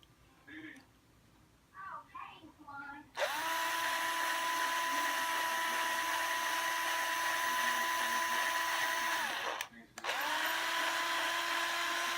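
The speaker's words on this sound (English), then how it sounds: "Then we'll line up the next one and drill it." A power drill bores a tuner hole in the headstock of a metallic blue Fender Squier Mustang short-scale hardtail guitar, with one steady high whine of about six seconds, a brief stop and a restart, after a few soft sounds and quiet talk.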